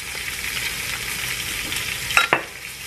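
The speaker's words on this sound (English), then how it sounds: "We're gonna stir it up." Food seasoned with garlic powder sizzles in a pan while being stirred, a steady frying hiss with a couple of sharp spoon scrapes near the end.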